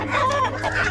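Several roosters cluck and squawk close by in a short, busy burst of overlapping calls.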